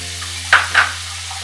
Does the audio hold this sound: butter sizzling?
yes